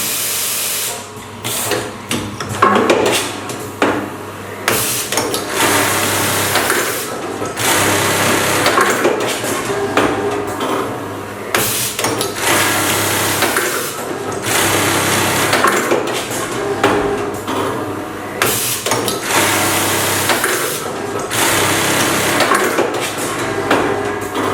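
A QK 350 automatic lockstitch collar cut-and-sew machine runs with clattering, rhythmic mechanical cycles and intermittent bursts of activity, loud and close, continuing steadily for a long stretch.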